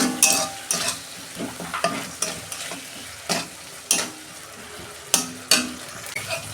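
Ground spice masala of coriander, cumin, turmeric and salt is fried in oil and stirred in a pan, with a steady sizzle under sharp, irregular scrapes and knocks of the spoon, close and fairly loud.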